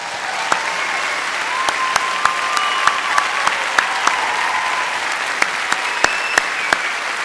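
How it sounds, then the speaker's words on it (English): A graduation ceremony audience at the College of Central Florida applauds a graduate, sustained dense clapping filling the hall with scattered louder claps standing out, and faint voices or whistles running beneath. "Please stand and let's give you a big round of applause."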